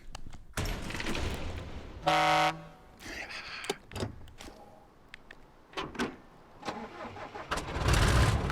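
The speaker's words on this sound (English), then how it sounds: "I didn't mean to stop the engine. Well, that way I get to hear it twice." A vehicle engine starts up in a snow plow driving video game, a cranking whir giving way to a loud rumbling idle, with a sustained horn-like tone blaring briefly partway through and the engine surging loud again at the end.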